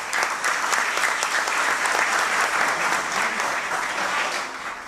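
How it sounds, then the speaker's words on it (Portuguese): An audience at a Chico Mendes award ceremony in a legislative chamber breaks into steady, dense applause that holds evenly throughout and fades slightly at the end. "Receba os aplausos desta casa."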